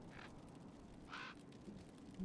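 Ravens and crows in Dragon Age: Inquisition give two short harsh caws, well spaced and moderately faint, against a steady low game ambience.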